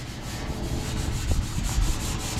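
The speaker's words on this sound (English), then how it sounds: "I'm just going to use a Scotch pad, a red one, just to scuff it up a little bit" A red Scotch pad scuffs the paint on an old John Deere lawn mower, a close, dry, rhythmic rubbing with quick strokes repeating about every quarter second for a couple of seconds, alone without talk.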